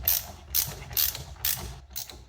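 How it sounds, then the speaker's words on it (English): A battery ratchet threads wheel hub bolts on a 2008 Infiniti FX35, making five short, evenly spaced whirring ratchet bursts, close and clear, with no talking. "Goes a lot quicker with a battery ratchet."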